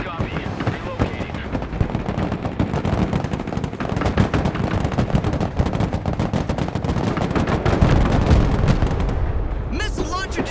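Dense, continuous gunfire from the Broken Arrow military strategy game, with machine-gun bursts and heavy artillery-like blasts rolling without pause, loud and close, under shouted in-game radio chatter.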